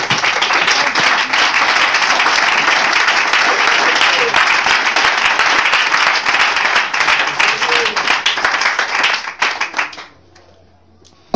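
A church congregation applauds Jesus Christ with loud, dense clapping that holds steady for about nine seconds, then thins out and fades into quiet.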